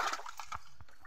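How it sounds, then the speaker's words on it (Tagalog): Water trickles and splashes faintly in a small stream, soft irregular gurgles and drips close to the microphone, quiet and alone. "Medyo malaki-laki ang volume ng tubig."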